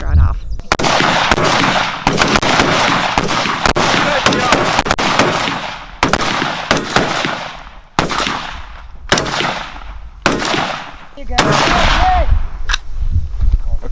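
AR rifle shots ring out at a shooting range in rapid bursts and single reports, loud and close with echoing tails, with voices talking between strings.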